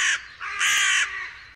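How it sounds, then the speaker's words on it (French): Carrion crows cawing over a castle courtyard, a few harsh, loud caws in quick succession close by, no voices. "partout gisent des cadavres en état de décomposition avancée, sur lesquels s'affairent des nuées d'oiseaux charognards"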